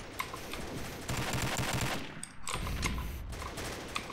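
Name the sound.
gunfire in video game Combat Arms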